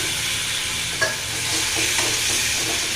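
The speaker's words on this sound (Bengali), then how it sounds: "টমেটো দেওয়া হলো নাড়া হচ্ছে সব কিছু দিয়ে লাউ দেওয়া হলো" A spoon stirs a curry of tomato and bottle gourd in a pan, with a steady low sizzle beneath a few soft scraping strokes, close by and with no talking.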